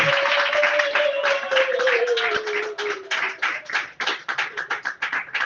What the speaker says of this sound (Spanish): Denle un fuerte aplauso a Cristo